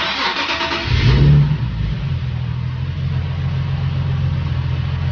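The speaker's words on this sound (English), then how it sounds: "Let's start the car and see if it's still working." A Nissan 370Z engine cranks and fires up with a brief rev, then settles into a steady low idle rumble, heard close and alone after an oil change.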